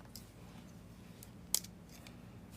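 Scissors snip through quilting fabric for a pieced Christmas stocking, one crisp close cut standing out against a quiet background, with a few softer rustles around it.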